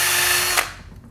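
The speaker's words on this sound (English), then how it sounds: "Next, insert larger drill bit," An electric drill fitted with a larger bit bores a hole in a metal part held in a vise, whining steadily and loudly before the motor cuts off and spins down.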